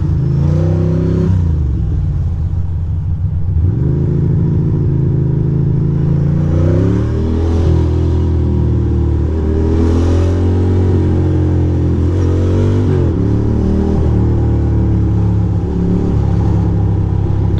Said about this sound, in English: Sorry for my bike being so loud, ma'am.